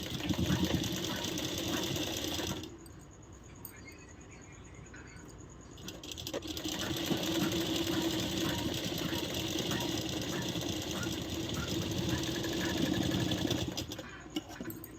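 An electric sewing machine stitching a blouse whirs loudly in rapid runs, pausing for about three seconds before resuming a steady buzzing stitch that carries on to the end.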